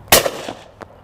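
A Blaser FBX shotgun fires a single loud, close shot at a crossing clay target, a sharp blast with a short decaying tail and a fainter crack a split second later.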